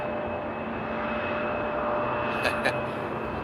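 A cargo aircraft taxis at Amsterdam Airport in the rain, its engines giving a steady, close broadband roar with faint whining tones that holds evenly throughout, with a couple of brief sharper sounds near the end.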